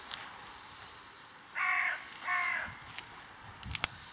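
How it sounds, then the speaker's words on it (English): A crow caws twice outdoors, two harsh drawn-out calls about a second apart, moderately close, with quiet background and a few small clicks afterward, during flint knapping. "Mr. Crow still wants more food."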